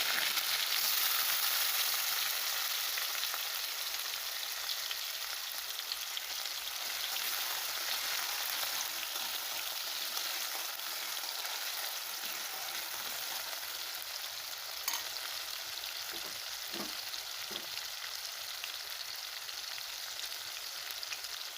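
Tomatoes hit a hot pan of mustard seeds while cooking a capsicum dish, giving a steady, close sizzle and frying crackle that holds for the full stretch, with a few sharper pops near the end and no talking.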